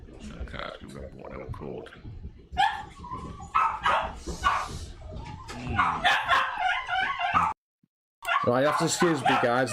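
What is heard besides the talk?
dogs barking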